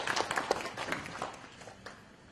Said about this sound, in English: Please give them a clap.